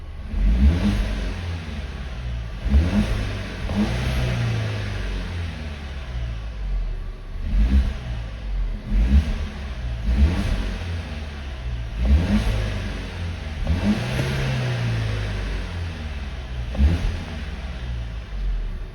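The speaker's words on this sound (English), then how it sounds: "if you want to hear any more turbo sounds" A turbocharged Volvo Drive-E car engine, limited to about 4,000 rpm, revs repeatedly, rising and falling in pitch with each push, loud and close, with a whooshing turbo whir between revs.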